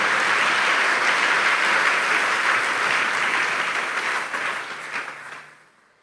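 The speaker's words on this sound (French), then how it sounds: "Est-ce qu'on peut acclamer le Seigneur pour cela?" A church congregation applauding and cheering for the Lord during a sermon: dense, sustained clapping and voices from a large room that hold steady, then fade out over the last second.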